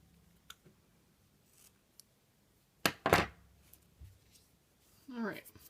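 Scissors trimming a small piece of fabric for a mini Santa hat, giving a couple of sharp close snips in quick succession, then light rustling amid quiet handling sounds.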